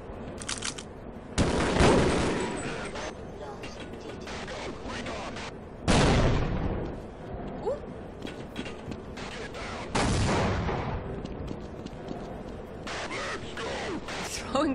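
Grenades exploding in Half-Life, three loud blasts spaced several seconds apart with decaying rumble, amid gunfire and battle noise while a voice talks over the action.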